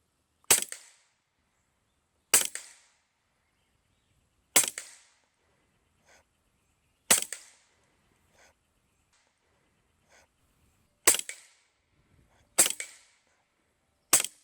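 Air Arms SK19 .30 caliber PCP air rifle firing seven sharp, separate shots at irregular intervals of about two seconds, outdoors, with faint small sounds in between.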